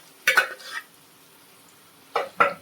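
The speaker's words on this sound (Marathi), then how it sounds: "पूर्ण आपण मिक्स करूया." A spoon stirring and mixing paneer biryani in a cooking pot scrapes in two short bursts, one near the start and another near the end, with a quiet pause between them and no talking.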